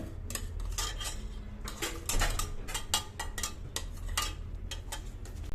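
A spoon works ghee into a pot of wheat porridge, giving repeated close metallic clinks and scrapes against the pot in an uneven stirring rhythm with no talking.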